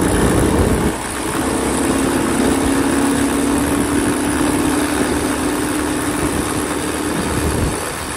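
Motorcycle engine running steadily on a dyno during a drive-belt test, a loud continuous drone with a low hum and a faint tonal whine, ending in a quick drop near the end.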